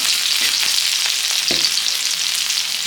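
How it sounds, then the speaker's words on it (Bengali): Green chillies and black cumin seeds fry in hot oil, giving a steady, loud, close sizzle with a few brief stirring scrapes and no talk. "অল্প লাল লাল করে ভেজে নিব।"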